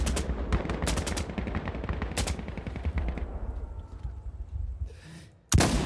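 Rifle fire in Insurgency: Sandstorm, including a Mosin: a rapid cluster of loud, sharp shots followed by a couple of heavier cracks, a fading echo, then one more close, abrupt bang.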